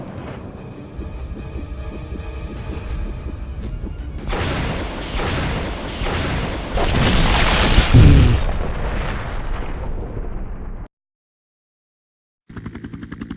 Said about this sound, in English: Will I equip the rocket launcher? Yes, right now.